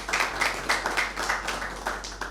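Audience applause at a mushaira poetry gathering on Father's Day, a steady run of overlapping hand claps with regular swells, fairly close and sustained for the whole span with no talk.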